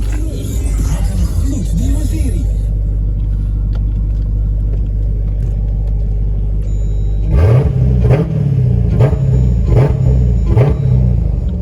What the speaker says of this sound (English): Let me give y'all a couple of revs